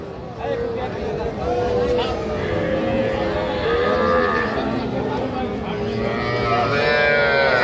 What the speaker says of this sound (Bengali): এটা একটা ষাঁড় বাছুর।